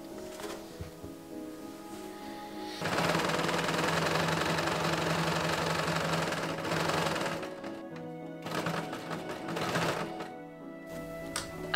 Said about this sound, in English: I am just going to sew the pieces of my tiers into one continuous length.